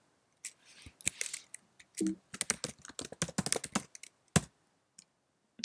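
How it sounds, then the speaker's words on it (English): Bursts of quick, irregular keystrokes clatter on a computer keyboard during a coding session, close and clear, separated by short pauses and a few louder single taps, with no voices. "Okay, we're ready to type."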